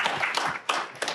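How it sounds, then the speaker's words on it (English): Audience applause after a talk at an event on artificial intelligence, a short burst of dense clapping with a couple of louder claps near the end. "Round of applause for Mark and Phil"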